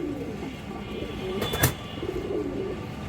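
A female pigeon coos softly in a loft among other birds, low repeated calls with a brief sharp burst midway, background hum under it.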